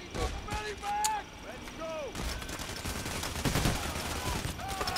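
Gunfire in the heist shooter Payday: The Heist: bursts and single shots crackle under game music and voices, with a steady dense layer of shooting through most of the clip.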